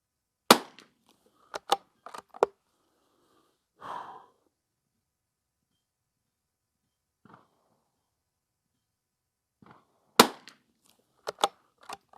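Rifle shots from a Ruger American Ranch Rifle ring out as sharp, loud reports: a cluster of several quick cracks at the start, a lone shot later, and another rapid burst near the end, separated by quiet gaps and faint handling noises.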